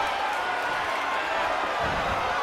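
A virtual arena crowd in the WWE 2K19 wrestling game roars and murmurs during an NXT match, a dense, continuous wash of cheering at steady volume.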